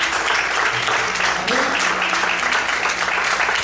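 Worshippers at an evening church service applauding, a continuous wash of clapping mixed with crowd voices and room noise at a steady loudness throughout.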